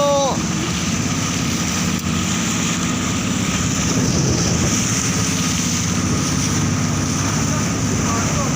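A small Filipino outrigger boat's engine drones steadily while very large waves and wind roar around it; voices speak now and then over the continuous rough-water noise.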